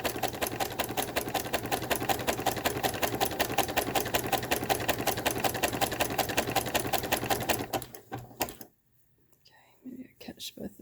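A home sewing machine stitches knit fabric in a fast, steady mechanical chatter for about eight seconds, then stops, leaving quiet handling noises and a soft voice.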